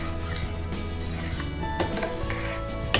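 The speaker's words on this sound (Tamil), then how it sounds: "நல்லா மிக்ஸ் பண்ணி விட்டுக்கோங்க" Mutton dalsa curry is stirred in a pot, giving steady scraping and rubbing with faint sizzling and a light metallic clink near the end, close and continuous with no voices.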